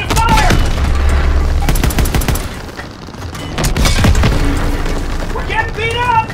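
Tank cannons boom heavily in the game Call of Duty WWII amid gunfire and battle noise. Loud blasts and bursts of shots come up close, mixed with shouting voices.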